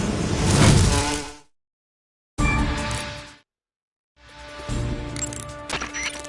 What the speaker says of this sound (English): The Pain is said to possess the power to control his hornets at will.